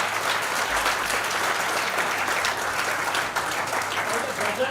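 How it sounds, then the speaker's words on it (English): An audience applauds at a morning gathering before a ghazal recitation, a steady dense wash of clapping that holds at an even level throughout. "Okay, let's give them a big hand"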